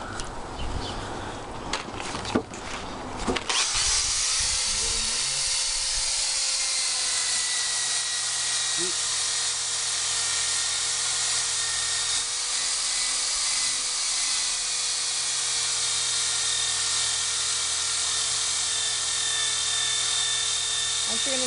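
A power sander runs steadily on a dirty old barn beam being refinished as a mantel, a loud continuous whine and hiss that starts after a few seconds of knocking and holds evenly to the end.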